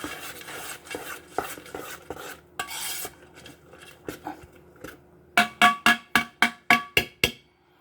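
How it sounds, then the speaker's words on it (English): A spoon stirs a rehydrated meal with two cups of boiling water in a container, scraping and clinking in repeated strokes that end in a run of sharp, evenly spaced taps against the rim. "I'm going to give that a stir."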